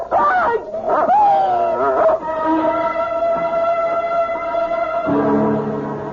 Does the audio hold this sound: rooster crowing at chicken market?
no